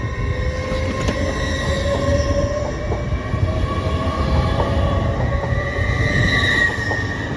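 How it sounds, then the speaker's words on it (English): A train runs through Doncaster station, a London King's Cross service, with a continuous loud rumble of wheels on track and faint high squeals and tones ringing over it, no one talking. "Here goes the 1605 All Trains Paragon service to London King's Cross."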